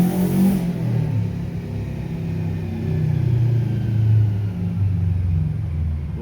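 A turbocharged Subaru Legacy engine running on a dyno, revving hard with a loud, steady rumbling drone that rises and falls slightly throughout, close and alone with no talk.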